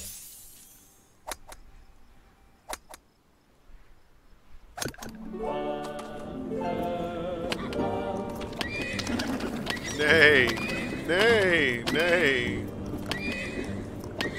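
A video-game horse whinnies loudly and repeatedly over clip-clopping hooves on a golf course in What the Golf, after a quiet opening with a few sharp clicks.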